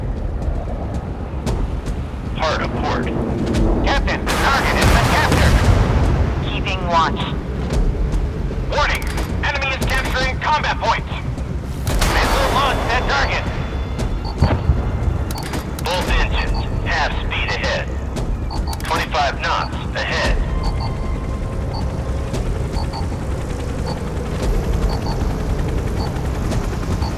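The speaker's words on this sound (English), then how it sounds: "Missiles launched. The target destroyed." Missile launches and gunfire explosions in a naval warship battle game, with repeated bursts and booms over a constant mechanical engine drone while voiced commands play over the action.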